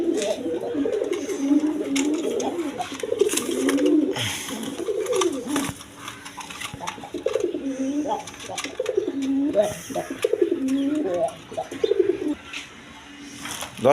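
A pair of Mukki pigeons, including a chocolate-coloured bird, coo repeatedly at close range in rolling, rhythmic phrases, with someone talking over and between the calls.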